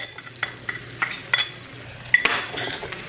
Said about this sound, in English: And mix the cauliflower well with the added spices, and then fry this till the cauliflower becomes slightly golden brown.